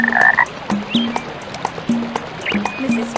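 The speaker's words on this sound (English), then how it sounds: "There's Mrs. Frog." A cartoon frog in the Dora river-rafting video game gives a series of short, repeated croaks in an uneven rhythm, mixed with a few light chirps over quiet background water.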